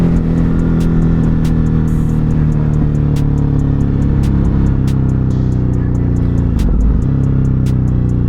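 A Ducati Hypermotard 950 RVE motorcycle being ridden, with a loud, continuous engine drone, wind rush and a brief dip in revs around the middle of the ride.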